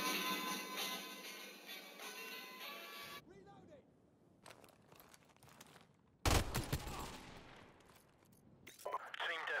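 Video game gunfire: scattered sharp shots and a loud burst of rapid fire cut between quiet stretches, following a steady tonal hum, with faint voices around.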